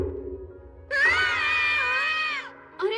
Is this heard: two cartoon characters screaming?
yes